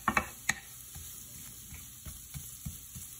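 Onions cooking down in a pan for queso fundido, with a soft continuous sizzle under a few sharp clicks and scrapes of a utensil near the start, then quieter intermittent taps.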